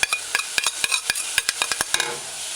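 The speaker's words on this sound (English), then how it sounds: "Stir it in, allow saute, allow to saute." Luncheon cabbage stew with herbs and pepper sautés in a pot, with a quick run of sharp spoon scrapes and knocks over a light sizzle, close and distinct.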